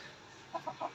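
A hen perched on a person's hand gives three short, faint clucks in quick succession near the end, after a moment of quiet room tone.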